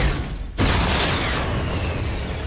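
A rocket launcher is fired in Fortnite, producing a sudden booming blast after a short lull, followed by a long rumbling tail that slowly fades.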